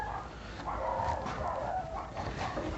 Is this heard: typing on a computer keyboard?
no